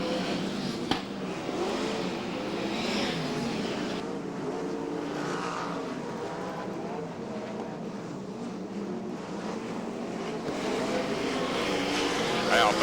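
V8 dirt modified race cars hot lap around Archerfield Speedway, their engines a continuous distant roar and drone beneath an announcer's commentary.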